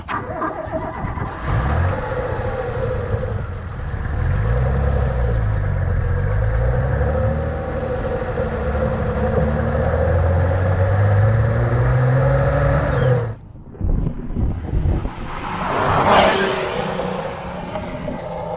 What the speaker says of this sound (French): on entend bien le moteur, c'est agréable